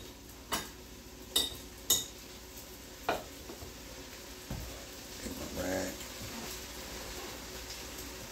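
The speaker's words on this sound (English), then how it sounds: "Okay, so I'm going to drop some butter in there." Butter dropped into a hot pot of browned flour for chicken and dumplings, a soft sizzle rising around the middle after a few sharp clicks of utensils, beneath a voice speaking.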